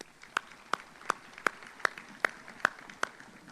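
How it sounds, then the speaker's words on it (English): At a chamber of commerce monthly luncheon, the room gives a round of applause for local businesses: about eight sharp, evenly spaced claps ring out over a quiet murmur. "Let's give these businesses a round of applause."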